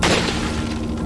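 Sniper rifle fire in Resident Evil 4 HD, a booming shot opening loud and close, then a sustained rumbling tail with a steady low hum underneath, no voices.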